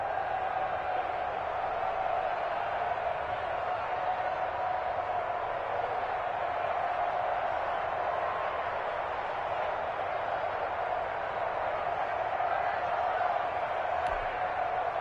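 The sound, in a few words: football stadium crowd cheering before a third down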